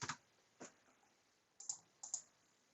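A few separate keystrokes on a computer keyboard as a number is typed into design software, quiet and close, in a short sparse sequence with gaps.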